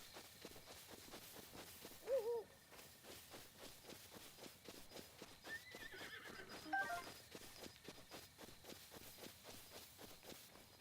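A horse in the Breath of the Wild video game gives a couple of whinnies over a steady run of clip-clopping hoofsteps, quiet overall with brief louder neighs.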